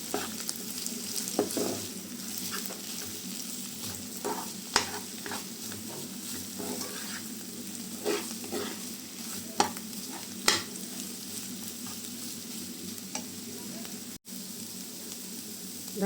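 Eggs and drumstick stems fry together in a pan, with steady sizzling under repeated scraping strokes of stirring and a few sharper knocks, close by and unvoiced.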